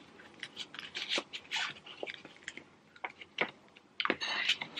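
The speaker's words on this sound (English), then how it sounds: "I'm just gonna put everything in the envelope." Homemade DIY magnet save-the-date cards are slid into a paper envelope, making close crinkly rustles and scraping paper bursts of varying loudness, with a denser shuffle near the end.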